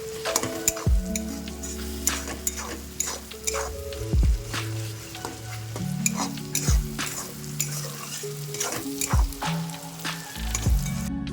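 Tomato cooking in hot oil with a steady sizzle and frying crackle, broken by periodic knocks and scrapes of a spatula stirring the pan, close and moderately loud.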